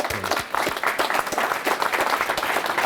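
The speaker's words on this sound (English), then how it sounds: "let's give a round of applause" A breakfast crowd at a St. Patrick's Day grand marshal event applauds in a steady, full wash of clapping from many hands, moderately loud throughout.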